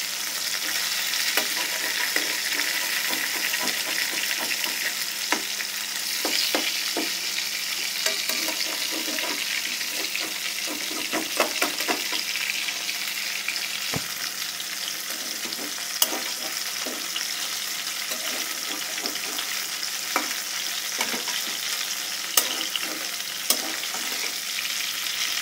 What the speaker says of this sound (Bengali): মাছটি আমরা এখন উল্টিয়ে নিচ্ছি।